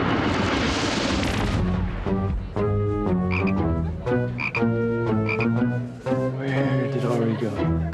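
A toad croaking in a loud, continuous series of deep, repeated croaks, close and dominant throughout, used as a sound effect.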